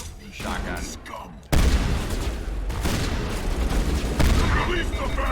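Shotgun blasts from Mass Effect ring out as a loud, dense burst of booming gunfire that starts abruptly, followed by sustained battle noise with rumbling impacts.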